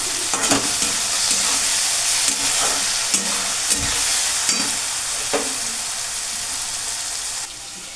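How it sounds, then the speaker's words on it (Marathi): Onion and tomato fry in a pan for chicken dum biryani, giving a constant bright sizzle broken by several scraping stirs and knocks of a spoon against the pan. "इकडं कांदा टोमॅटो आपलं भाजायला लागलं"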